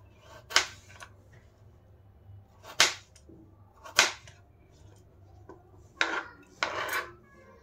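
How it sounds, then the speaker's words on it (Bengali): Knife chopping two potatoes into large chunks for aloo matar pulao: a handful of sharp, separate cuts land on the board a second or two apart, fairly close and clear over a quiet kitchen hum. "আলুগুলো একটু বড় বড় সাইজ করে কেটে নেব"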